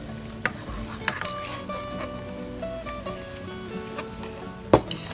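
Sautéed bacon seasoned with salt and pepper being stirred in a pan: a soft, steady sizzle under scattered spoon scrapes and clinks, with one sharp metallic knock near the end.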